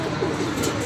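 Pigeons kept in a loft coo softly, and a low murmuring call repeats against a steady background hum at close range.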